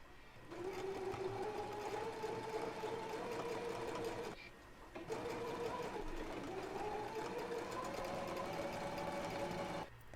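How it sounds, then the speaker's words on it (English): Sewing machine runs in two steady bursts of fast, whirring stitching, sewing a basting stitch and a narrow hem, with a short pause between the runs and a soft mechanical hum underneath. "So I'm going to go ahead and do my basting stitch and then go ahead and form my narrow hem and stitch it in place."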